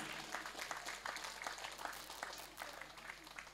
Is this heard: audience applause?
yes